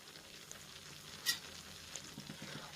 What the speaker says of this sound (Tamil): ஒரு பக்கம் சின்ன வெங்காயம், பச்சை மிளகாய் வதங்கிட்டு இருக்கு